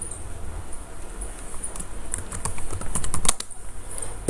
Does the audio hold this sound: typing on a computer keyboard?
yes